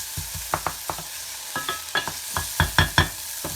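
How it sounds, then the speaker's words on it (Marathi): Small green chillies frying in a pan with onion, a soft steady sizzle under a series of sharp scraping and tapping stirs that grow louder toward the end, heard close with no voices. "आता त्या मिरच्या सुद्धा फ्राय करून घ्यायच्या चांगल्या।"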